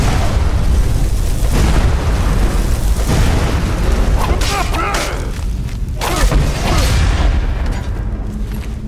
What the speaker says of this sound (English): That explosion woke somebody up.